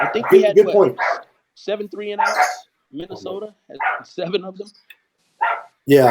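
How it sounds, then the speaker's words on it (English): A pet dog barks and yips in the background of a home while a person talks over it about an NFC Championship football game. "Sorry about my dog."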